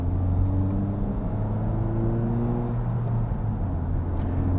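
A Honda Civic Type R is driven on the road, its engine holding a steady low hum that shifts pitch as gears change, heard continuously from inside the car with no speech.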